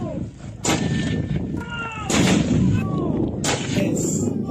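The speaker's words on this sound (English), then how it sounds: "Oh, and the mortar! Of course, the mortar!" Booming mortar fire in a video game, with several heavy blasts and whistling, chirping effects layered over a constant battle din.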